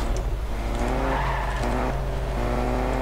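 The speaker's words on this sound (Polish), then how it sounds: "A sobie pojadę autem." A car in a video game drives with a steady engine drone and long tire squeals from skidding, continuous and fairly loud, with no talking.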